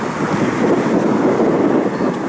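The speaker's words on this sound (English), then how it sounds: "Nice wind here. Try to hide behind this wall to keep it off the microphone." Strong wind buffets an outdoor microphone in the Philippines with a steady, loud low rumble that roars without a break and carries no speech.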